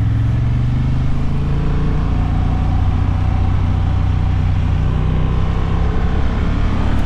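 A Honda Hornet 750 motorcycle pulls hard in third gear, its engine a loud, steady, close-up drone that rises slightly early on, mixed with constant wind rush and no talking.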